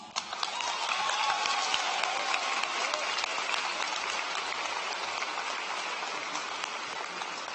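Steady audience applause at the Shadle Park High School 2018 graduation ceremony, a continuous hiss of many hands heard from a distance, fairly faint and even between graduates' names.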